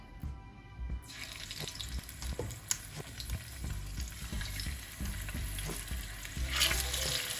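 Oxtail pieces sizzle and crackle steadily in hot oil, a dense, continuous frying hiss with scattered pops and stirring sounds throughout, fairly close and loud, with no talking.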